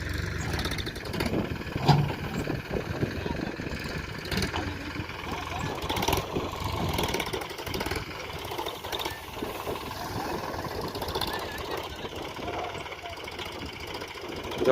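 A tractor engine runs at idle with a rough, knocking chug on a farm while a trolley is unloaded of groundnut. The loud, continuous drone is mixed with clatter.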